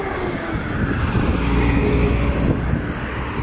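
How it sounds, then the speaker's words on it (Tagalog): Heavy rush-hour traffic on a highway, a loud, continuous roar of passing vehicles close by with no break and no talking. "Daming sasakyan ngayon kasi rush hour."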